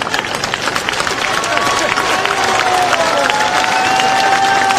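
A crowd gathered in a church courtyard at Saint Anna's claps steadily and loudly, a dense wash of hand claps with scattered cheers and voices mixed in.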